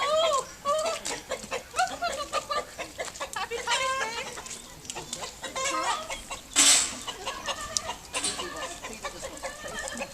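Chickens cluck and call repeatedly nearby in uneven bursts at an outdoor folk park, with a rooster among them and one sharp, louder squawk partway through.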